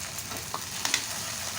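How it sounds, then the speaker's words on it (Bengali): Grated boiled potato is stirred into a spice masala frying in oil over medium heat, giving a brief soft sizzle with a few close scraping clicks of the spoon and no speech. "এই আলুটাকে মশলার সঙ্গে ভালো করে মিশিয়ে নেব।"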